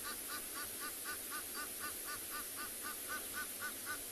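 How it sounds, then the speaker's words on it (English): Egyptian geese honk at sunrise over still water at Tswalu in the Kalahari, a steady, rapid series of evenly spaced calls heard at moderate distance over a constant hiss of background noise. "You hear the Egyptian geese starting to vocalize now as well."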